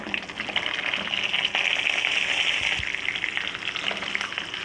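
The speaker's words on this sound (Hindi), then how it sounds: "अब इसमें मिर्चें डाल दूँगी।" Green chillies frying with spices in hot ghee, a steady close crackling sizzle with small pops, holding level and fairly loud throughout with no talking.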